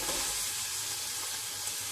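Onions fry with green chilies in a pan for restaurant-style vegetable biryani, a steady hissing sizzle that stays even throughout, close and unaccompanied by speech.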